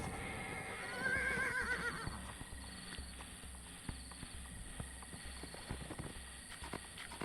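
In a video game, a horse whinnies loudly near the start, followed by a steady clip-clop of hooves over a busy background of music and game noise.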